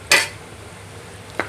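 A spoon scrapes through coriander powder and black salt in a pan over a low gas flame for a masala sandwich, giving one sharp clatter near the start and a softer scrape just before the end. Between them there is a quiet stretch.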